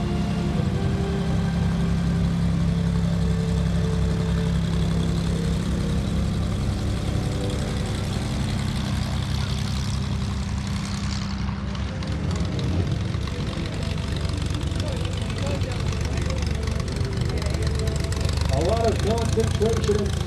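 Warbird aircraft flying a formation pass at an air show give a steady, continuous engine drone, and someone talks over it throughout.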